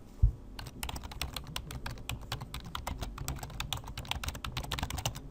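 Computer keyboard typing a short message, a steady run of close, crisp key clicks with no talking.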